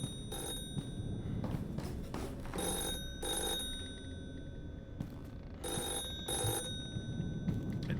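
An old-style telephone bell rings repeatedly in the game The Floor is Breathing, sounding in short bright bursts with pauses between them, over a low ambient game background.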